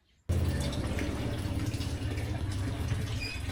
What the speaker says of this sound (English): Now I just wait for the coffee to finish dripping